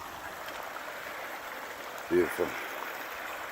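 Steady, moderately loud rush of a stream flowing outdoors fills the whole stretch, while someone briefly speaks over it.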